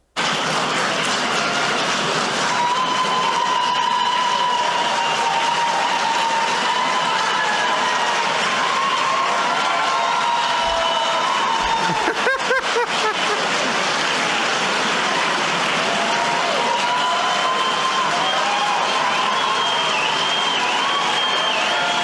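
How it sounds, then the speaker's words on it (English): A large crowd at a banquet claps steadily and continuously as a dense wash of applause, sustained throughout with a faint murmur of voices. "So now you hear some clapping."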